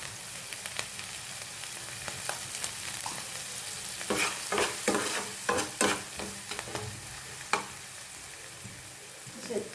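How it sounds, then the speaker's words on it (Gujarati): Chopped onion and capsicum sauté with salt in a pan for white sauce pasta, a soft steady sizzle punctuated by clusters of sharp spatula scrapes and taps against the pan, close by and without speech. "આને બરાબર સાતળી લઈશું"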